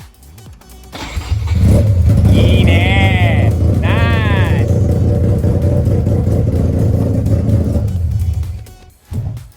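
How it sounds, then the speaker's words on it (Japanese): A Mazda RX-7 FC rotary engine, revived after fifteen years, cranks, catches and settles into a loud, rumbling idle, with a couple of revs and people talking over it. "またかかるかな、エンジンはそのまま。"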